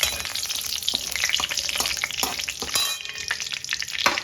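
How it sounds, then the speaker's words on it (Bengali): Whole garam masala and a bay leaf crackle in hot mustard oil in a kadai, a dense, continuous close sizzle with bright pops and occasional stirring scrapes, no talking. "কড়াইতে এই তেলের মধ্যেই আমি আরো একটু সর্ষের তেল দিয়ে গোটা গরম মশলা আর একটা তেজপাতা আমি ফোড়ন দেব"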